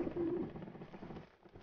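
A single pigeon coo opens in Grim Fandango Remastered, soft and close, then fades into murky low game background noise with no further calls.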